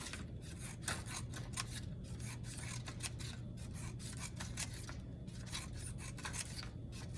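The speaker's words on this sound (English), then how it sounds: "Cut nice and straight, all the way to the line, all the way across your paper." Scissors cut across a sheet of paper with a quick, regular series of crisp snips and slicing rasps, close by and continuous, with no talking.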